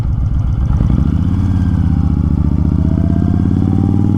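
A 2020 Honda Fury motorcycle riding on a bumpy road, its engine a loud, close, steady low throb with rising pitch as it accelerates, plus rattling clatter from the rough surface and no talk.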